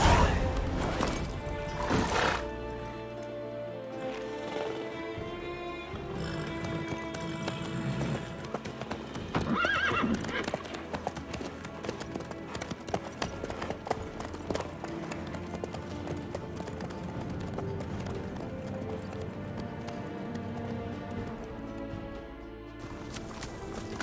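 Horse hooves clopping at a steady gait in The Witcher 3: Wild Hunt, with a whinny and a brief crash, all set within a continuous game soundscape of music and ambience.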